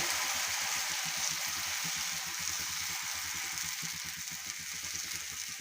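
Spicy khaparoli batter sizzles steadily on a hot pan while being poured and swirled, making a constant fizzing hiss with a soft rhythmic pulsing underneath.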